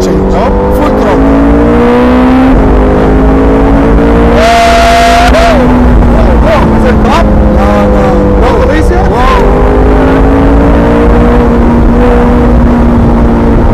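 A Ferrari accelerates hard at full throttle in second gear, a loud close engine howl rising in pitch with a brief gear change, with voices talking over it from inside the car.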